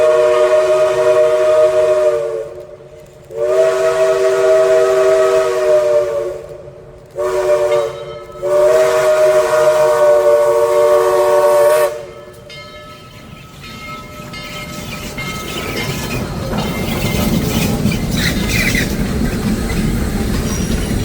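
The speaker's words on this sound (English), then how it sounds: "follow Southern Railway number 4501 as she makes her debut trip to Summerville, Georgia" Southern Railway steam locomotive No. 4501, in green and gold livery, sounds its deep chime whistle in several long blasts with short breaks. The final blast fades into the rolling rumble of the passing train.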